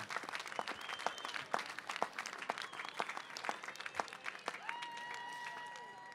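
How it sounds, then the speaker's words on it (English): An audience at a university commencement ceremony claps for the graduates, with scattered individual claps that are fairly faint and sparse, plus a few whistles near the end. "Let's give them one more round of applause for their achievements."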